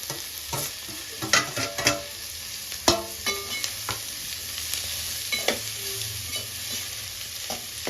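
Shredded cabbage and carrot fry in a pan while a spatula stirs them, making repeated clattering scrapes over a continuous sizzle, close, with no speech.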